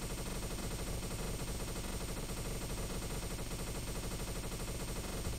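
Sustained rapid automatic fire from a video game weapon in Bastion mode, aimed at a wall, a dense continuous rattle of shots at steady loudness throughout with no pauses.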